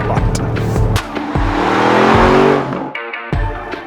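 2021 Porsche Cayenne GTS accelerating hard on throttle, its engine revving up in a loud rising surge with a brief gear change, then dropping off near the end.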